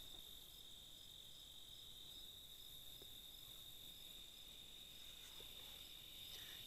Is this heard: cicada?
yes